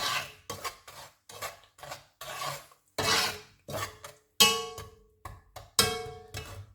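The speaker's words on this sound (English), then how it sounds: "And we'll give that a good stir." Sugar being stirred into fruit in a pan for homemade jam, a close series of separate raspy scraping strokes in a steady rhythm, loud and alone.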